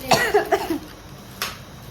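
A person coughs several times in a quick burst near the start, followed by a single shorter cough after a brief pause, close and fairly loud in a quiet indoor setting.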